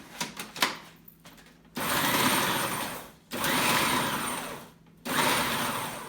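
Food processor pulsing quartered tomatoes for a chili, tomato and garlic sauce, three loud whirring bursts of about a second and a half each, separated by short pauses, after a few soft clicks at the start.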